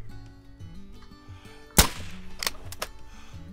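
An air rifle fired at a buck in the hunting game Call of the Wild, one sharp crack over soft background music and ambience, followed by a few fainter knocks.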